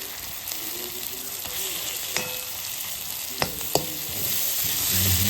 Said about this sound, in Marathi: भाजी आता आपण मस्तपैकी मिक्स करून घेऊया